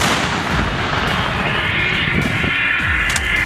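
Sustained rumbling blasts of howitzer artillery fire, loud and continuous, with low booms and crackling echoes rolling over a steady noisy background.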